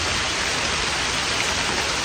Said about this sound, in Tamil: மழை உரத்துதுங்க